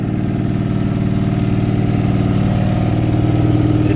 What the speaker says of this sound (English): It's like 30 degrees out here, so I fired up the bike.